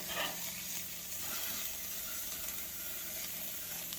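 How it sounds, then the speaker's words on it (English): Hamburgers sear on a Weber grill with a steady, close sizzle and hiss that runs unbroken throughout, with no voices over it. "Then I usually hit it with another sear."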